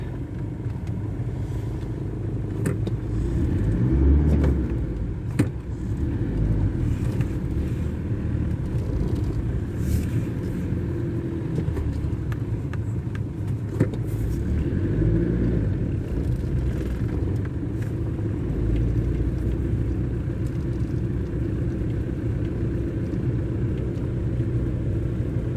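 A car rolls slowly along a road behind a herd of cattle being moved, its low engine rumble steady and close for the whole stretch, with occasional clatter and no voices.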